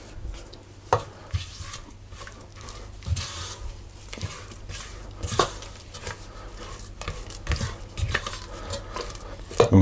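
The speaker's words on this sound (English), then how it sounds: "now going to put the egg in. And mix that in." A spoon mixes egg into a spiced German cookie dough in a bowl, making irregular scraping and dull knocking sounds against the bowl, close and fairly quiet.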